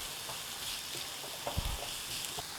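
Ginger, garlic and green chilies temper in hot oil with a steady, close sizzle and a brief burst of crackling partway through, alone with no voices.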